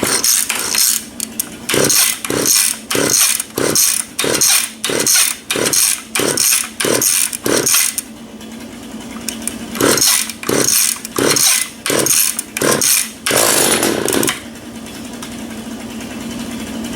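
A chainsaw that has sat without fuel for about four months is pull-started: a long run of loud, evenly spaced rope pulls with brief sputters. It then catches into a steady, close engine drone with no speech.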